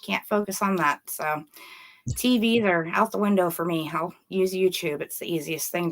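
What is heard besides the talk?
None of the usual background noises is heard.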